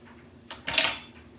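Spoon scraping and clinking against a pan while honey sriracha sauce is stirred, a short burst of utensil noise swelling mid-clip before tapering off, with no talking.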